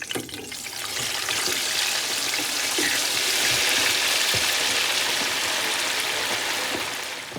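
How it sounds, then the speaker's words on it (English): Chicken drumsticks fry in a deep fryer, giving a loud, steady hiss of bubbling oil that swells in and holds for several seconds before easing off. "I'm frying them right now in my deep fryer"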